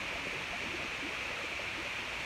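Water rinses a boat, heard as a steady, even hiss of spraying water that runs without a break throughout, with no talking over it.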